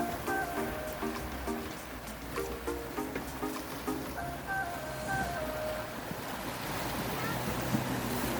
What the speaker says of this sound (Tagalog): Ampas ng mga alon sa batuhan.